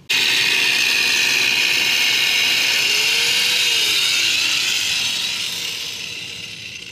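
A power cutting tool slicing through the welded axle of a cheap go kart, a loud continuous high grinding whine that holds steady for about five seconds before gradually tapering off.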